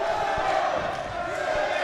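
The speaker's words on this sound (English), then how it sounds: "The strong Irish crowd singing for Lee now." A strong Irish crowd sings in an arena during a bare knuckle fight, a loud continuous roar of many voices blending into a chant, with a commentator talking over it.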